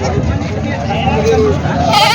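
A goat at a village goat market bleats in a wavering cry over a busy background of murmuring voices and livestock noise.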